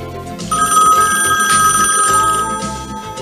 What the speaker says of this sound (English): The telephone rings.